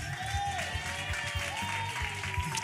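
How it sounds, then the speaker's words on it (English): Audience applause at a community outreach session, a steady wash of clapping held for the whole stretch while music or tonal sounds play underneath and a voice is faintly mixed in. "Give it up, clap it up"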